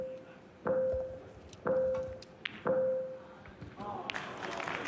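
In a snooker Shoot Out match, a cue strikes balls in three crisp knocks about a second apart, each ringing briefly, with quiet room murmur and a faint voice toward the end.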